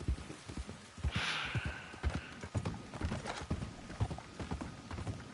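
A horse's hooves clip-clop in a steady trotting rhythm in the video game Red Dead Online, with a brief neigh near the start, under low background sound.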